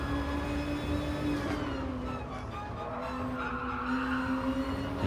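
Race car tyres squeal and skid continuously in Gran Turismo Sport behind a Toyota, the loud, wavering screech riding over a steady engine drone throughout, with no talk.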